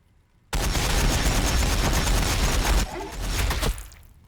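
Heavy gunfire in a Warhammer 40,000 battle video game siege between Blood Angels and Orks, a sudden dense, loud burst of shots and booms starting abruptly, dipping briefly, then continuing before cutting off.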